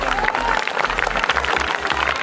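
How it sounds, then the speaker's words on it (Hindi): Students and guests at a school Republic Day celebration break into loud, dense applause, a brief, continuous burst of many hands clapping close by. "एक गूंज उठेगी तालियों की आवाज।"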